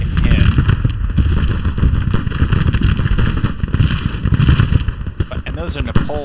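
Napoleon cannon batteries in a Civil War strategy game fire a rapid, dense run of booming reports, loud and near, with someone talking over the barrage.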